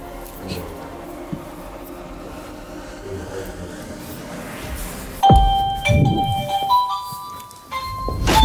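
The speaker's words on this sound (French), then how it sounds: "On va aller sonner pour que maman sorte." A two-tone doorbell at a house front door rings out loudly partway through, after a stretch of quieter outdoor background, with bright chime tones lingering and some voices or movement around it.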